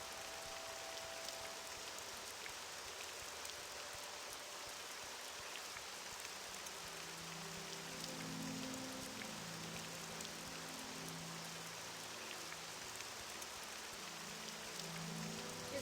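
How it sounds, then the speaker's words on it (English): Steady rain falls in the video game Morrowind running on OpenMW, a soft, even wash of drops at low level with no talk. "Still raining."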